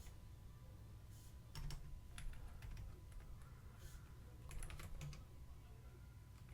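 Soft keystrokes on a computer keyboard come in short bursts of typing code, quiet and close, with brief pauses between runs and no one talking.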